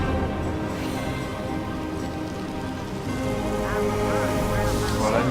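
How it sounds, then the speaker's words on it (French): Rain spell cast in the video game Divinity: Original Sin, a dense steady patter of rainfall on surfaces that continues throughout, slightly swelling toward the end, with no talk. "il faut vite faire la pluie sur tout le monde"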